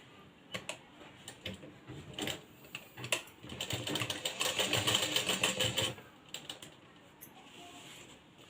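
A sewing machine stitches piping onto a blouse in short bursts, a rapid mechanical clatter that builds into a steady run in the middle before breaking into a few brief spurts, with no talking over it.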